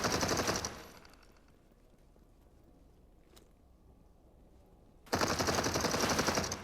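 Gunfire at robots in the video game Qanga, heard as two loud bursts of rapid automatic fire, one at the start and one near the end. A quieter stretch with a single faint pop separates them.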